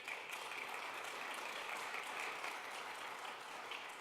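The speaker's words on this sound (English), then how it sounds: "give a round of applause to our distinguished speakers" A conference audience applauds panel speakers at a session on the digital economy and society, a quiet, even patter of many hands sustained for several seconds.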